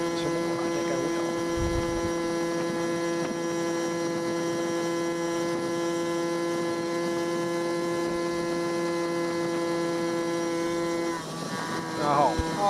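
A Yamaha QT50 Yamahopper moped engine running steadily, a constant buzzing drone rich in harmonics that holds evenly for a long stretch before shifting briefly near the end, where a voice may come in.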